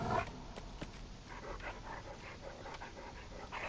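A Cane Corso, the Houndmaster's dog in the Dead by Daylight video game, pants in rapid, steady breaths close by, with a few faint clicks and game ambience beneath.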